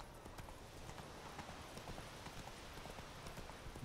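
Roach, Geralt's horse in The Witcher 3, gallops at a steady, rapid clip-clop, the hoofbeats close and continuous throughout with no talk over them.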